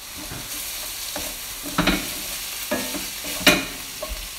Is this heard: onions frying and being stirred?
yes